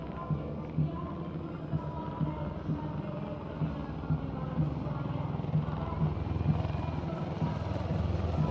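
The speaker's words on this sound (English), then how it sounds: "And now flying is the Garud formation, a powerful display of indomitable spirit of our Apache attack helicopters" Apache attack helicopters fly in formation with a loud, steady rotor thrum and a rhythmic beating pulse, holding a continuous roar with a faint crowd murmur beneath.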